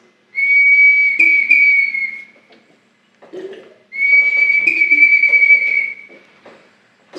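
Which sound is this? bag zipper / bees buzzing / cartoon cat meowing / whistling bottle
whistling bottle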